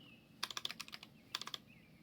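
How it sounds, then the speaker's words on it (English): Keys on a computer keyboard clatter in two quick bursts of crisp taps, a run of about eight strokes then a shorter group of five, close and quiet with no talking. "this section of the audio is just gonna be me typing"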